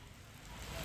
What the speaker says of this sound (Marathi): लोणावळ्यात मुसळधार पाऊस सुरू आहे